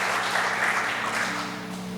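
Church congregation applauding during a service, a steady wash of clapping from many hands at moderate distance, fading slightly toward the end, with a low sustained organ-like tone underneath.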